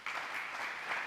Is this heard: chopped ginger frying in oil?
no